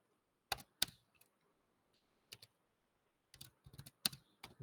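C++ code being typed on a computer keyboard: clusters of crisp, close key clicks in short bursts separated by quiet pauses, with no speech.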